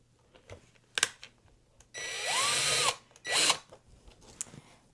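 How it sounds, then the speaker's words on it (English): A power drill drives small screws into the back of a wooden picture frame holding a canvas, with two short whirring bursts of about a second each amid light handling clicks. "I'm not going to screw anything directly into the canvas. I'm just screwing into the frame itself."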